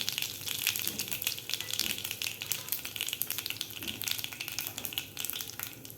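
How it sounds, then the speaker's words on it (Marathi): Cumin and mustard seeds fry in hot oil with a pinch of asafoetida added, giving a busy, crackling sizzle with sharp pops throughout, close and continuous, with no voices. "जिरे आणि मोहरी व्यवस्थित आपली फ्राय झालेली आहे"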